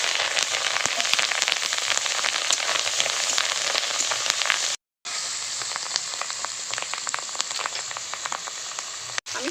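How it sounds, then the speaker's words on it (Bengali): Rohu fish roe frying in hot salted oil, a dense crackling and spattering sizzle like rain on a surface, loud and close, broken by a short silent gap midway. "তেলের মধ্যে একটু লবণ দিয়ে দেব ডিম দিলে খুব বেশি ফাটবে না ডিমগুলো দিয়ে দেবো"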